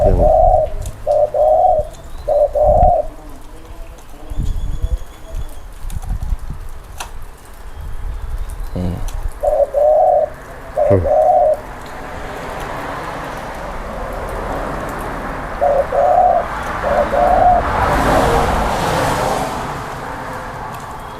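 Spotted doves coo in short repeated phrases, pausing between bursts, over a busy outdoor background with passing traffic noise.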